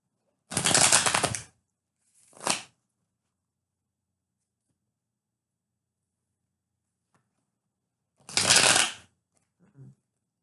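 Tarot cards being shuffled in three short bursts of crisp riffling, close up, separated by long stretches of near silence.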